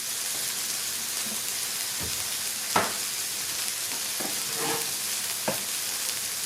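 Drained pork chop pieces sizzling in hot oil while being stir-fried: a steady, bright hiss of frying with occasional soft knocks and pops from stirring, close and continuous.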